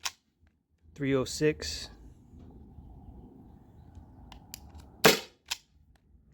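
A Byrna SD launcher running on an 8-gram CO2 cartridge fires one sharp, loud pop late in the clip after a spoken chronograph reading, with a faint mechanical hum between.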